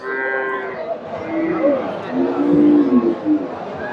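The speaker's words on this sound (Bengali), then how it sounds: "এই যে গাভীটা ফ্রিজিয়ান গাভী" A Friesian dairy cow lows with a drawn-out, wavering moo amid a busy outdoor cattle market crowd murmur.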